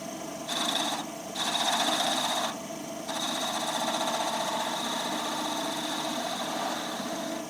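Skew chisel cutting a pine 2x4 goblet blank spinning on a wood lathe, a steady close rasping hiss with a couple of brief pauses as the tool lifts off the wood.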